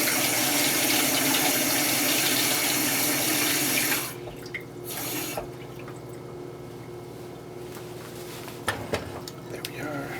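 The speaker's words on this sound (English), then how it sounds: "Now I'm going to put a generous amount of water in it." Water runs loudly from a tap into a cooking pot for pasta, a dense rushing stream that cuts off after about four seconds, followed by quieter room sounds and a few knocks and clatters.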